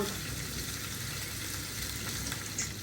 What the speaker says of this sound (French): elle fait revenir les paupiètes